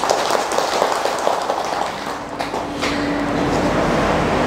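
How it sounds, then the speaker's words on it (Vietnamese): An audience at a Buddhist dharma lecture breaks into applause, a dense patter of many hands clapping that holds steadily across several seconds. "Đó, vỗ tay một cái cho nó."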